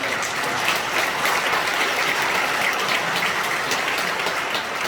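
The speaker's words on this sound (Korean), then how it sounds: "박수 한번 하시죠" A congregation at an Easter union worship service in Jeonju gives dense, steady applause that fills the whole stretch at an even level.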